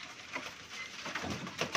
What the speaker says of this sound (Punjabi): ਅਤੇ ਜ਼ਰਾ ਇਹ ਪਰਵਾਜ਼ੀ ਕਬੂਤਰ ਆ ਜੀ